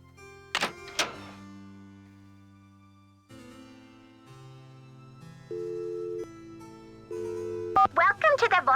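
Telephone keypad tones from the Nancy Drew adventure game as a phone dials voicemail: a couple of button clicks, then a series of steady, clear touch-tone beeps of varying pitch, ending in a brief burst of rapid tones.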